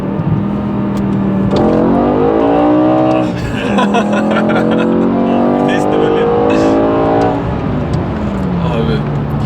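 A BMW M6 (E63) with a 507-horsepower engine revs hard and pulls through rising, falling gears from inside the car, loud and continuous, with one short lift-off midway.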